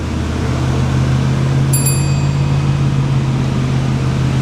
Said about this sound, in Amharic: እንደምታዩት 100 ኪሎ ሜትር ላይ እየሄደ ይገኛል ማለት ነው መኪናው።